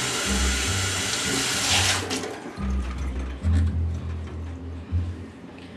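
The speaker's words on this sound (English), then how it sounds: "Wash off my hands really quickly here." A kitchen tap runs steadily while hands are rinsed under it during baked ziti preparation, the splashing water loud and close throughout.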